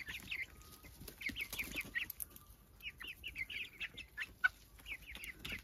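Young Sussex hens and a mixed flock cluck softly inside the coop, a continuous chatter of short, quiet clucks and calls with occasional wing movement, fairly close.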